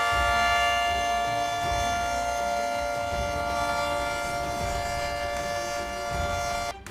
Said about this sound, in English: Two T-22 siren sounds.